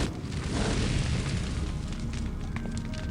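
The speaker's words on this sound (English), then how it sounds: "Now the cave is on fire." A spark spell sets a cave ablaze in the game Lands of Lore III, a loud dense roaring burst of fire that rumbles steadily throughout with faint crackles.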